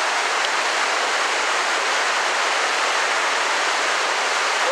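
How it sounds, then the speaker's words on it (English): Water rushing steadily over the dam at Hogs Back Falls in Ottawa during low water, a constant broad roar that fills the scene without pause. "This is the one dam that's letting water through because the water is so low."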